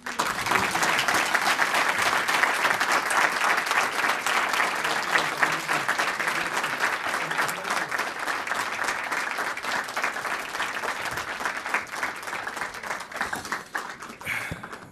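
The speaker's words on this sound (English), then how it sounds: "another round of applause" Audience applause at the close of a seminar lecture, dense and steady clapping from a sizeable crowd, sustained at even strength for about fifteen seconds before thinning at the end.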